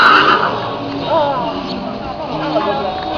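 A horse whinnies at an equestrian jumping competition at a May Day meet in Šaľa, the neigh rising near and loud over a busy crowd and an announcer talking.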